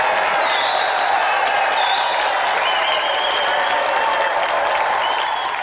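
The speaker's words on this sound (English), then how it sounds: "Another round of applause for Marlon Rose!" Studio audience applause on a 1993 British TV video game show, a loud, dense and steady wash of clapping that holds from start to finish with a few faint cheers on top.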